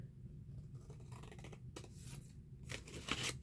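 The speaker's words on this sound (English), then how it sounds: "let me cut this real quick" Scissors cut through an envelope's paper with soft, quiet snips and scrapes, a few crisp slices closing out the short stretch of close, faint handling.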